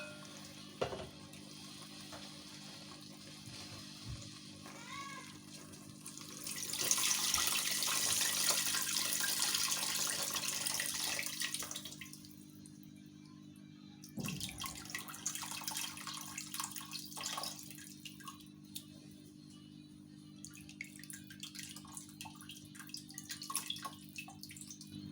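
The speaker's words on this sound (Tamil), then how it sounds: "இப்போ கரைச்சி வச்ச அந்த புளி தண்ணியை ஊற்றிக்கலாம்." Strained tamarind water is poured into a pan of Madurai-style fish curry, giving a bright sizzling rush for several seconds, then quieter bubbling and stirring over a steady stove hum.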